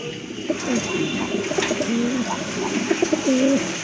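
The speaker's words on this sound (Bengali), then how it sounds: "আরেক জোড়া কবুতর দেখেন" Pigeons coo softly and repeatedly at close range at a market, low throaty calls rising and falling over a steady background hum.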